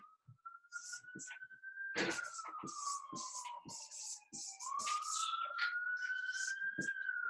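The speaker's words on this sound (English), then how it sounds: "sorry about the siren. This is New York City." A wailing emergency siren in New York City rises and falls steadily in the background while a person talks over it throughout.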